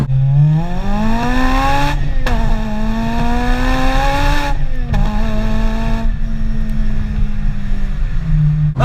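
A Honda EP3 with a Grupp M intake drawing air from the top of the bonnet and a full Toda exhaust revs loudly and close, rising and falling in pitch through several pulls and gear changes before settling to a steady drone.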